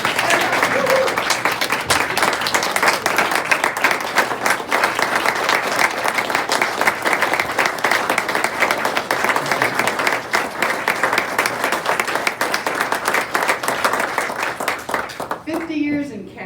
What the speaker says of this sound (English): Let's give Jim a great round of applause.